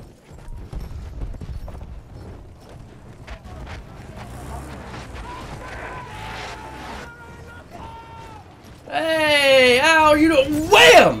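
A horse gallops in Battlefield 1, its rhythmic clip-clop running under voices talking over game noise, before a loud burst of layered swooping synthetic effects near the end.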